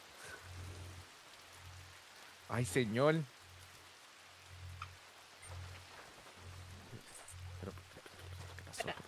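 Steady, faint rain falls in Red Dead Redemption II, a soft wash under a low pulsing hum, with a man's brief exclamation in the middle.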